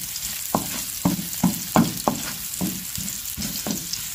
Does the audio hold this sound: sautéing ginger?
yes